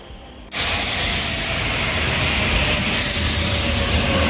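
Metro train in Rome: after a brief quiet moment, a loud rushing roar of the train sets in abruptly and continues steadily, with a hissing, windy quality and a faint high whine.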